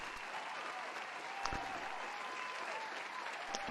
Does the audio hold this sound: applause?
yes